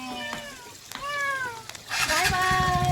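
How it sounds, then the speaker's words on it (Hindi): Several cats meow outdoors along a scooter route to Maldevta, with rising and falling cries overlapping one another, fairly close, while people talk nearby. "3 बिल्लियां एक साथ।"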